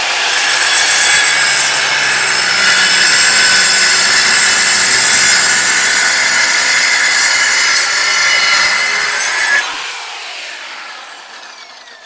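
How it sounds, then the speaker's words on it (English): A saw rips through a board for a campervan worktop, a loud continuous whining cut lasting several seconds before it stops abruptly and the motor winds down. "So we have the saw set up."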